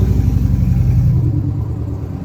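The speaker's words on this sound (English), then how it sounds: "truck is loud." A loud truck rumbles past nearby, a heavy low engine drone that holds strong and then eases slightly as it moves on, with no voices over it.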